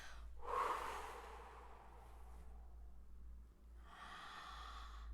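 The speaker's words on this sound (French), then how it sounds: "Alors, tout d'abord, vous videz toujours vos poumons." A person empties their lungs during a breathing exercise for anxiety and stress, a close, quiet breathy exhale followed by a softer second breath, with no talking.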